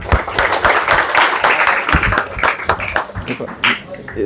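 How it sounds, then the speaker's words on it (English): A room of students at a stress management workshop claps together in a dense burst of many hands, sharp overlapping smacks running for several seconds with voices mixed in. "So we'll do one clap for all of us."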